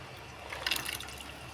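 Water is poured into a pan in a brief, soft splash of liquid lasting about a second, heard close and fairly quiet with no speech.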